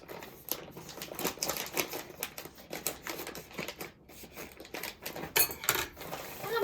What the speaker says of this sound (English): I'm going to take my scissors and I'm going to open up my bag of chocolate chips.